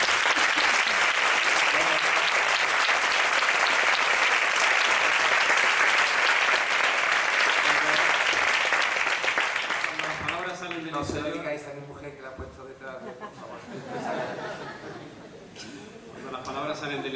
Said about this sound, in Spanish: Le damos una ovación